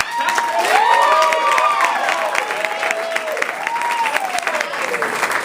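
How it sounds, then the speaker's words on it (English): A cabaret audience gives Patrick May a big round of applause, steady clapping from many people while voices whoop and call out in rising, sliding cheers over it. "give Patrick May a huge round of applause."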